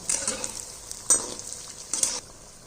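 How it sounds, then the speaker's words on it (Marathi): Wheat flour snack deep frying in hot oil, a steady crackling sizzle with brief louder bursts of bubbling and stirring, no voices. "व्यवस्थित असे दोन्ही साईडनी छान लालसर होईपर्यंत आपण ह्याला तळून घेणार आहोत"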